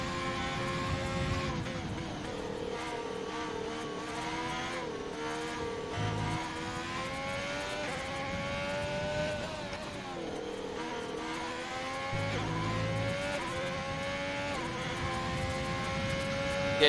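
A racing car's engine at Spa, Belgium, in a racing game, a steady high-revving whine held in seventh gear that shifts pitch with uneven throttle, up close, with someone talking over it.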